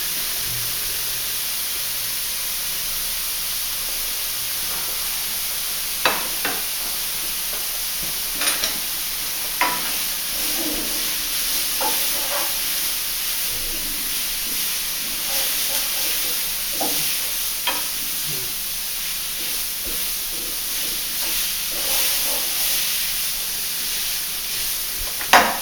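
Finely chopped fresh ginger and garlic sizzle in a pan for sticky Chinese spare ribs, a steady hiss of frying with occasional stirring scrapes and soft pops throughout, no talking.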